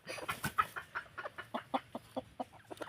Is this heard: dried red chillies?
no